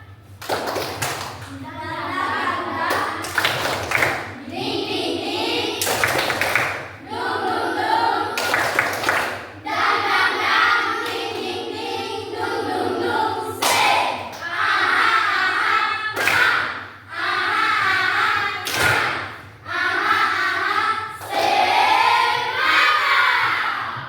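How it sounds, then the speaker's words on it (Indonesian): A classroom of children claps together in a rhythmic spirit clap led by their teacher, with sharp clusters of hand claps repeating in bursts over steady chanting and talking voices. "tepuk semangat"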